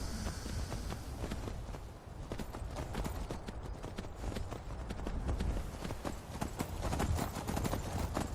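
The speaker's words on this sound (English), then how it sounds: "Everyone's calling their horse." Steady clip-clop of several horses' hooves walking in the video game Skyrim, a dense overlapping rhythm of hoof strikes, close and continuous throughout.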